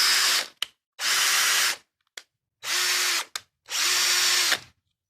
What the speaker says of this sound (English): So I have a 22mm paddle bit here, and I'm gonna drill into this.